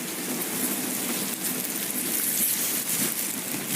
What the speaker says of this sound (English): Not the rain.